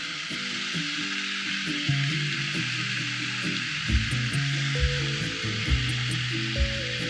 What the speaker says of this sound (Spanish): ahora vamos a pasar un poquito el jamón por la sartén, pero nada, que toque la sartén